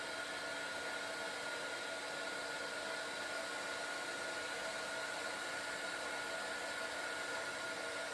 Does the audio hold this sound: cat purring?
no